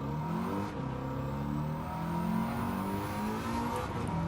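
In the Gran Turismo 7 racing game, a car accelerates hard from a standing start. Its engine note rises steadily in pitch through the gears as a continuous, moderately loud whir.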